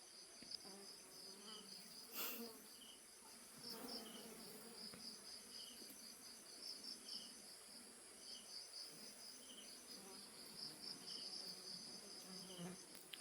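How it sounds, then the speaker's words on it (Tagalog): Swarm of flies buzzing around a fruit tree outdoors, a faint continuous insect drone with scattered higher whines and no one speaking. "ang daming langaw dito"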